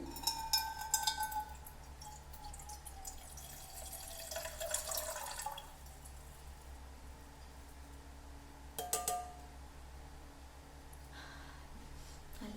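Rosemary water being poured into a container, a soft trickle and splash at first, then faint drips and a light clink against a quiet background hum.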